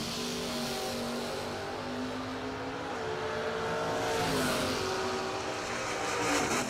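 Camaro and Nova drag racing cars roar at the American DoorSlammer Nationals, a steady loud engine drone rising in pitch as they accelerate, heard from a distance with crowd ambience.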